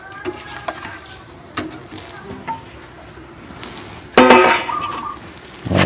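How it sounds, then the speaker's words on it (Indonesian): Tapioca dough balls for pentol aci being stirred in a pan, with soft scrapes and clinks scattered through the quiet, then a louder burst of frying sizzle and utensil clatter near the end. "kita masukkan, sambil kita aduk-aduk biar gak lengket."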